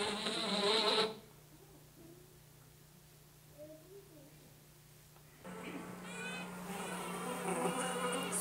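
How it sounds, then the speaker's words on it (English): A worker honeybee pipes in two harsh, buzzing bursts, one short at the start and a longer one later, each with a strong tonal pitch and a quiet gap between them. "So she's pressing her thorax and piping trying to pipe that bee."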